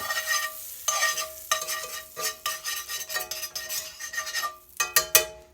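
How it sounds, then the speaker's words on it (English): Butter in a pan for sourdough pancakes, with close, uneven scraping and stirring strokes and a light sizzle underneath, repeating in short bursts. "If your butter is browning right away, that is not a good sign."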